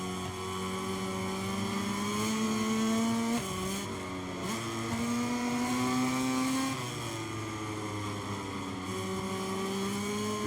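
Motorcycle engine racing in the video game MotoGP 23, a high-revving whine that climbs steadily through gears, drops at each shift and rises again, with other bikes droning faintly behind, no voices.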